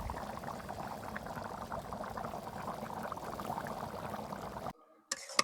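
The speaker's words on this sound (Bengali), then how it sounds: "এবার আস্তে আস্তে জাল দিয়ে সেদ্ধ করে নেবো" A pot of chickpea lentils (boot dal) simmers over the flame with a steady, soft bubbling that stops abruptly near the end before a brief noise.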